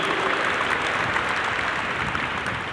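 Audience applause fills a city hall State of the City address in Bridgeport, a steady dense clapping that holds at even loudness throughout with no voices over it.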